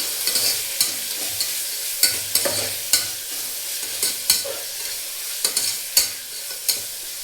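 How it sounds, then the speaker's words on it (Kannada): Tomatoes fry in a pan with turmeric and salt for masoor dal, a steady close sizzle broken by regular spoon strokes scraping and tapping the pan roughly every second. "ಇವಾಗ ಟೊಮೆಟೊ ಸ್ವಲ್ಪ ಸಾಫ್ಟ್ ಆಗಬೇಕು, ಅಲ್ಲಿವರೆಗೂ ಈಗ ಫ್ರೈ ಆಗಲಿ"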